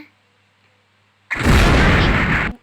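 A sudden loud, broad blast bursts in after near silence and roars for about a second before cutting off, an explosion in a video game.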